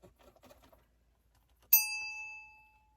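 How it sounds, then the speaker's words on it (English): A single strike on a small thrifted bell gives a clear, bright ding that rings out and fades over about a second, following some quiet handling noises. "Listen, bell ringing."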